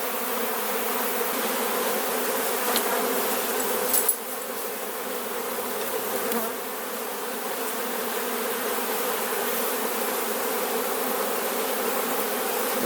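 Honeybees swarm around an open hive with full frames and no brood, and their dense buzzing drones close and continuous, with a brief faint knock partway through.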